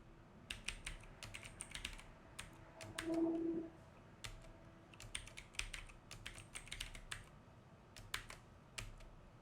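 Root password typed on a computer keyboard during a Void Linux install: bursts of quick, light key clicks in uneven runs with short pauses, close but quiet, with no talking.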